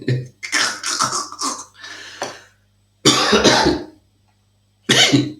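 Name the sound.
coughing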